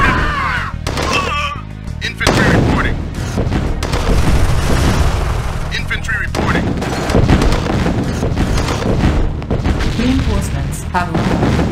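Dense gunfire and booming explosions fill a Command & Conquer: Tiberian Sun battle, with rapid bursts and heavy thuds layered throughout and short unit voice responses cutting in between.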